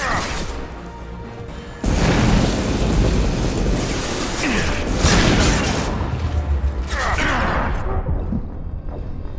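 Loud explosion of a fuel tank in the Mass Effect 2 video game, a sudden roaring blast followed by sustained rumbling debris and crackling that slowly fades.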